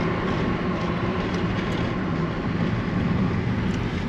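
Steady, continuous rumble of a metro train ride in Algeria, a dense, even roar of wheels and carriage noise heard from inside, with no talking over it.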